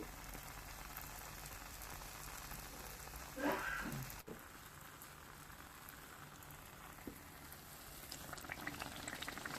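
Steady bubbling crackle of pitha (sweet rice-flour cakes) deep-frying in hot oil, continuous throughout, with a brief louder burst of sizzling partway through.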